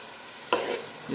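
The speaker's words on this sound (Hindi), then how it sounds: "इसको भी अच्छे से भून लेंगे" Ground spices (turmeric, garam masala, red chili, coriander powder) roast in a pan, a low sizzle punctuated by one sharp stirring scrape midway and a softer knock near the end.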